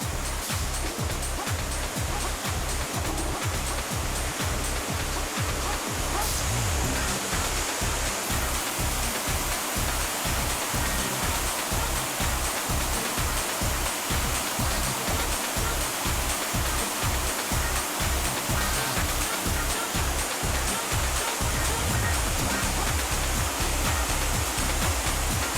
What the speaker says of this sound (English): Followed by a product rinse with ozonated water.